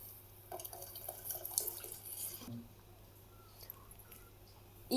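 Liquid is poured into a pot of varan, Maharashtrian dal, giving a faint trickling, splashing stream for a couple of seconds before it fades into quiet kitchen background.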